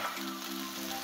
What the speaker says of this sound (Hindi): ये हमने इसमें कुकिंग ऑयल डाल दिया।